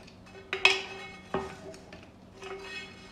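Chicken nugget ingredients are mixed in a bowl with a utensil, giving a few close scraping and clinking strokes against the bowl, two sharper taps, then a softer swish.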